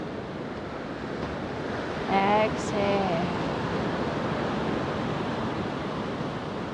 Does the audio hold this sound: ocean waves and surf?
yes